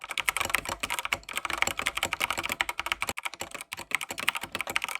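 Rapid, continuous typing on a 75% mechanical keyboard, close up, with crisp key clicks in a busy, uneven rhythm.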